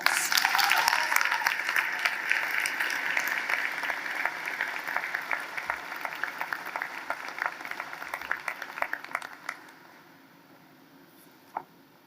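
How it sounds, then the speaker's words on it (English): A graduation audience at a law school ceremony claps for the graduating class in a long, full round of applause that thins into scattered claps and fades out, leaving a last stray clap near the end. "let's give the entire class a great round of applause"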